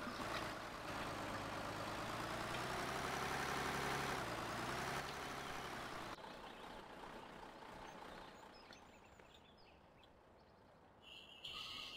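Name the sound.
truck engine starting and idling in Farming Simulator 2013 video game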